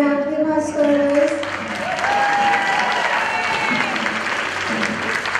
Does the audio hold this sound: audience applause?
yes